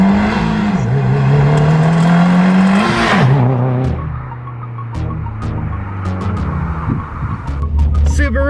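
Subaru WRX engine with a freshly replaced inline fuel filter and pump, revving up with a rising tone then settling into a loud, steady idle throb close by, with brief voices in the background.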